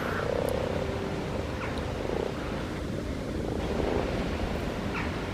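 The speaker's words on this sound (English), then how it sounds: "You can hear the croaking very well now." Frogs croaking steadily in a garden pond during spawning season, a dense continuous chorus of overlapping calls filling the whole stretch at moderate loudness, with no talking over it.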